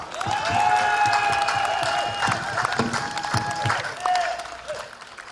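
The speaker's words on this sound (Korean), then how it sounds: "우리 모두를 위해서 한번 뜨거운 박수 한 번 더 부탁드립니다." Outdoor crowd at a political trekking rally applauding on request, scattered clapping and cheers with whistles and voices mixed in, moderately loud and uneven.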